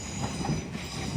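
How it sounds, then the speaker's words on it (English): An LNER Azuma train arrives at Newark Northgate station on the East Coast Main Line, a loud, steady rumble of wheels on rail with a whining motor tone. "Arriving in now for our penultimate train of the day will be your 1535 LNER Azuma service from London King's Cross to Lincoln Central"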